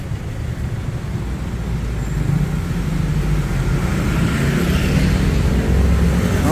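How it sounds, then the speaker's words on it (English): A Porsche drives past on a Bangkok street, its engine rising from a low rumble to a louder, fuller roar as it approaches amid general traffic noise, with no talking. "Here goes a pretty nice Porsche."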